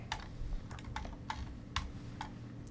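Soft computer keyboard keystrokes, a handful of separate clicks at an uneven pace over a low background hum, faint and close.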